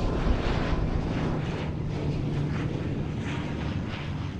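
Boeing airliner engines at takeoff on runway 10L at Fort Lauderdale airport: a loud, broad, continuous jet roar with gusty rushing swells, steady throughout and heard from outside.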